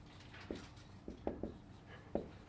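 A marker writes on a whiteboard during a university math lecture: a handful of short, squeaky strokes and taps, fairly close, over a quiet room hum.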